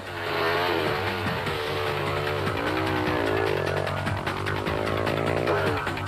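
A 200cc racing motorcycle at the Rustenburg 200 restarting and pulling away, its engine revving and climbing in pitch continuously and fairly close, with no talk over it.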